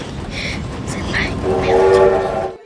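A train approaches on railway tracks in a film scene, with rumbling and a rising horn-like tone that swells and grows louder before cutting off abruptly.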